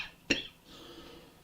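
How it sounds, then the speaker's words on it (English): A single sharp cough in a quiet broadcast studio during a hockey post-game show, brief and close, followed by a faint low rumble of room noise. "As I cough all over the airwaves."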